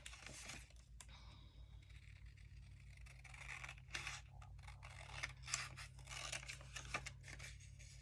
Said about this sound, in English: So if I trim the cream cardstock away,